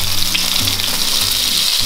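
Salmon fries in a hot pan with a loud, steady, crackling sizzle that fills the whole stretch. There is no talking over it.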